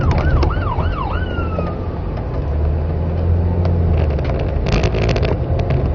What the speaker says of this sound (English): Let this ambulance through.